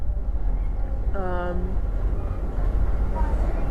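A moving train carriage gives a continuous low rumble, with a short harmonic whistle or horn-like tone in the middle and steady rolling noise around it.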